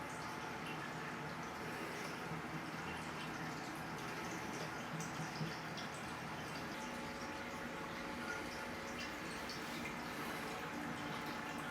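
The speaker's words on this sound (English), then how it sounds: "This is where all the water flows in and out of this aquarium." Water running through aquarium plumbing, a steady, faint, continuous wash and trickle with no clear changes throughout.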